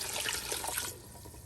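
Water poured into a cooking pot holding a fried native rooster with garlic, a steady broadband splash and gurgle for about a second, then tapering to a quieter trickle, close and alone.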